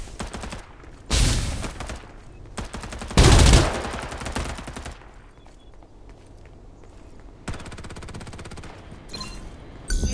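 Gunfire in the Farlight 84 battle-royale video game: bursts of automatic weapon fire come in several loud volleys with quieter gaps between them and no talk.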